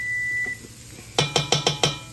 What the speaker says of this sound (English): That was our timer to check on our carrots